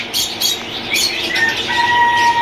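Parrots, lories and ringneck pairs among them, squawk and chirp at a busy outdoor bird market, a jumble of short harsh calls and thin whistles over a steady crowd hum.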